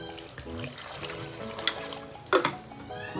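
A glass of water is poured over about 1.5 kg of jaggery in a pot, a short splashing, gurgling pour heard close up over a faint background tone.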